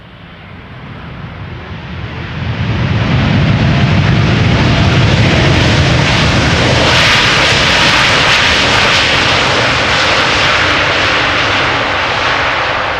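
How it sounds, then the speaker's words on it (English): An Air Canada Boeing 787-9 Dreamliner lands at Schiphol's Polderbaan runway on a flight from Toronto, its jet roar swelling from a distant rumble into a loud, sustained broadband rush that holds steady to the end, with no voices. "First up, Air Canada, flight 808, 7879 Dreamliner, arriving from Toronto"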